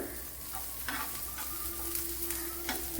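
Bitter gourd slices frying in oil in a pan for pickle, a steady close sizzle with stirring scrapes and occasional spoon clinks throughout, no voices.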